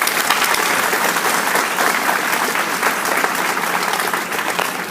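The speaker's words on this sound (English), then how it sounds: "So let's give another vigorous round of applause to Senior Vice Chancellor Gary Cates" A crowd at a building grand opening celebration gives a loud, dense round of applause for a senior vice chancellor, sustained and even for several seconds.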